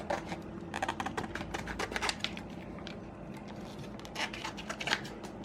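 A machine cuts custom vinyl tags for DIY clothing labels, giving off quiet rapid ticking and scraping bursts in irregular clusters, faint and close, with no talking.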